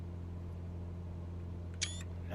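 Camera shutter click from a screenshot in Microsoft Flight Simulator 2020, a single quick mechanical snap near the end over a steady low aircraft engine drone.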